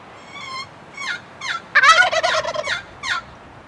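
Wild turkey gobbler gobbling outdoors, a series of rapid warbling gobbles with a louder, dense burst in the middle and a trailing call at the end, fairly close and alone without talk.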